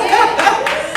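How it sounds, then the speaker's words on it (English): Audience clapping hands at a women's empowerment workshop, a brief burst of steady applause filling the room with some murmuring voices underneath. "That deserves a hand clap"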